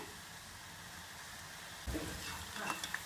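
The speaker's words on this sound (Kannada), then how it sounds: "ಹಾಗೆ ನಿಧಾನವಾಗಿ ತಿರ್ಸಿ 2 ಸೈಡ್ ಚೆನ್ನಾಗಿ ಫ್ರೈ ಮಾಡೋಣ." Pressed snack dough frying in hot oil while it is turned for a Karnataka spicy mixture, a soft steady sizzle that rises into louder bubbling and crackles near the end, with no voices.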